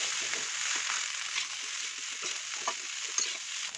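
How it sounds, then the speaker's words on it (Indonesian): Fried rice with vegetables and sausage is stirred in a hot pan, a steady sizzle with repeated soft scraping and tossing strokes of the spatula, close and moderately quiet. "masukkan nasinya barengan dengan sayur dan sosisnya. Aduk-aduk sampai bumbunya merata ke semua nasi ya."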